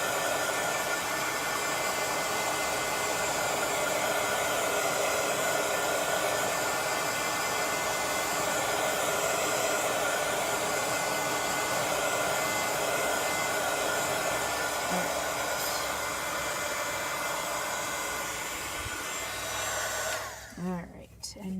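Heat tool blowing hot air to dry shoes, a steady loud continuous whoosh that holds for about twenty seconds before cutting off with a few handling knocks at the end.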